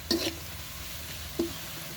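Onions browning in a pan, frying while being stirred, with two short scraping stir sounds over a low steady sizzle, close up with no talking.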